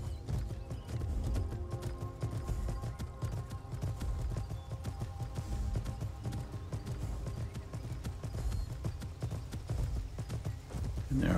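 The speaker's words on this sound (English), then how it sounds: "I can just ride my horse back to Elysium Estates" Horse hooves gallop in a steady, rapid clip-clop while riding through Skyrim, loud and continuous across the whole stretch, with an occasional whinny and music-like tones underneath.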